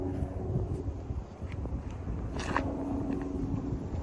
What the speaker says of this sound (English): Suddenly very windy, so I might be able to make this.